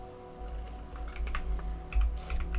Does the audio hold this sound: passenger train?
no